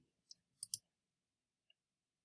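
Two or three crisp computer mouse clicks sound close and clear in a quiet room, with one faint tick a moment later.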